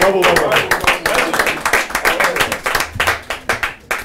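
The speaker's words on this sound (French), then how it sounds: "On l'applaudit encore." An audience claps in a dense burst of applause that thins into scattered claps toward the end, loud and close, with a voice talking over it.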